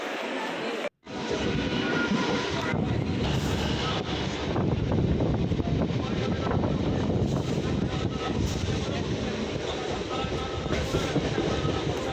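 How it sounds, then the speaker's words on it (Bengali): A local commuter train in West Bengal, heading to Naihati, rumbles along with a dense, loud roar of wheels and carriage noise, steady and close from inside the car after a brief cut near the start. "আমি এই ট্রেনটি ধরেই চললাম নৈহাটি"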